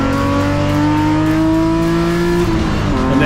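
BMW race cars in an M Performance Parts race series run hard on a circuit, engines holding a loud, sustained whine that climbs and then drops as a gear change or lift comes near the end.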